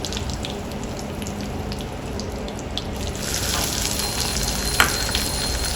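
Curry leaves and mustard seeds crackling in hot oil for masala bhendi, a continuous bright sizzle with scattered pops and spatters, growing slightly louder and busier midway.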